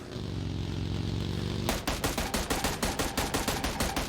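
In a shooter video game, a steady droning hum gives way to rapid bursts of automatic gunfire, loud, close and sharply repeating until the end.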